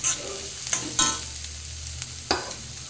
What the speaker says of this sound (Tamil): கேரட்டை போட்டு கொஞ்சம் வேக விட்டு எண்ணெயிலே வதக்கி கிண்டி